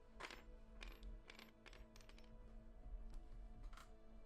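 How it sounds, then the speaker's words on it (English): Dice rolling in Tabletop Simulator, a quiet series of sharp clattering clicks and taps spread over a few seconds, each followed by a faint ringing tail. "I need to roll the big dice for everything"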